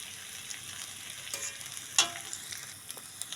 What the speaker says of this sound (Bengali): দেখো এখানে আমার আলু আর পটলগুলো একদম কষা হয়ে গেছে।